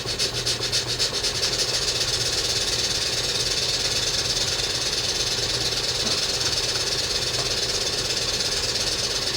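A small Stuart No9 model live steam engine with a centrifugal governor runs steadily at about 30 psi with a rapid, hissing chuff and mechanical clatter, loud and close, never letting up.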